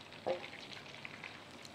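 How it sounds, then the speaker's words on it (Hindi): Chicken pieces deep frying in oil give a soft, continuous bubbling sizzle. One brief louder pop comes near the start, and there is no talk. "ये आप देख सकते हैं इस तरीके से डीप फ्राई करना है"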